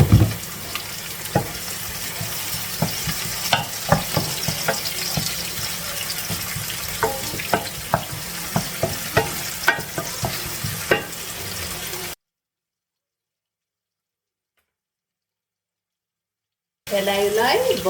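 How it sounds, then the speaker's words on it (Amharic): Vegetables frying in oil in a pan for pasta, a constant crackling sizzle with frequent clattering stirs, then a stretch of complete silence before the frying noise returns briefly. "ዘይት ጨምሬ አቁላለዋለሁ በደንብ።"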